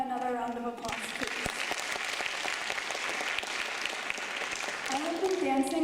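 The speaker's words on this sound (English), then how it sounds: "can we all give Sneha another round of applause, please?" Audience applause at a Bharatanatyam arangetram dance performance, a sustained wash of many hands clapping that fills the room, with voices briefly audible at the start and end.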